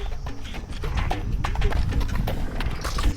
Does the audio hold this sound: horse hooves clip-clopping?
yes